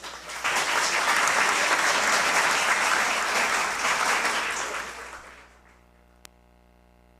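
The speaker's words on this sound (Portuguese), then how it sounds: "Receba os nossos aplausos." Audience applause at the Prêmio Chico Mendes award ceremony, a steady dense clapping from a large crowd that holds for about five seconds, then fades quickly into near silence with a single small knock near the end.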